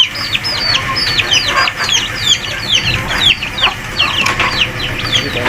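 Native chickens cluck busily at close range while pecking at and eating vegetables, with a dense, overlapping chatter of short clucks and calls over steady farmyard background noise.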